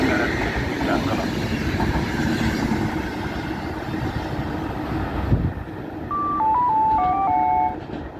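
A train near Veszprém, Hungary rumbles steadily with dense rolling wheel noise; near the end a few short electronic chime tones sound over the clatter.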